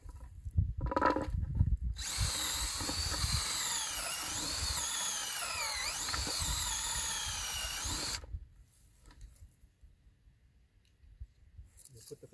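A power drill whines steadily for several seconds while boring a hole, with knocks and handling noise before and after.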